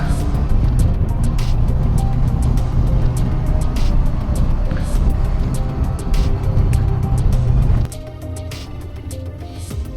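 A Honda NX500 motorcycle rides through high mountain roads in Ladakh, its engine and wind roar loud and steady, dropping to a quieter, lower rumble near the end.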